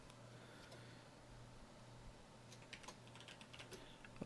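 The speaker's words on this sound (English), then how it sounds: "We'll type NVIDIA." Someone types NVIDIA on a PC computer keyboard, a short quiet burst of light, quick key clicks after a moment of low background hum.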